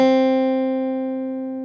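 A single plucked guitar note, C on the second string, rings out clearly and decays slowly, sustained and steady with bright overtones, alone with no talking.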